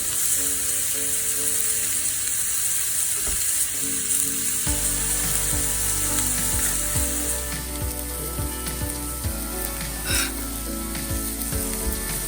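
Burgers sizzle and fry on a Blackstone flat-top griddle, a steady close crackling hiss running throughout with occasional small pops and spatters, no voices over it.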